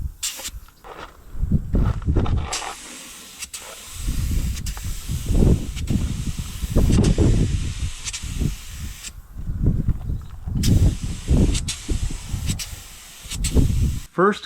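A spray gun lays a glossy first coat of paint on a restored, once heavily rusted motorcycle gas tank. Short and longer hissing bursts come in an uneven rhythm close by, with brief pauses between passes.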